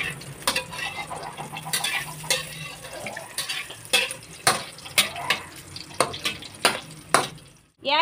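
Hotdogs fry in a pan, the sizzle steady beneath a run of sharp clinks and scrapes from a utensil against the pan, close and fairly loud, ending in a short pause.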